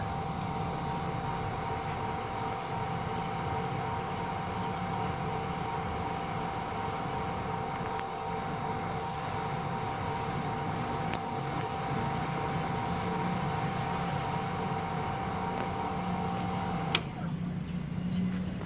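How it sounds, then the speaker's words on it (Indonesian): A Wasser PW-139EA water pump runs steadily close by, giving a constant motor hum with a buzzing electrical tone throughout and a faint click near the end. "Sekarang pompa akan saya nyalakan"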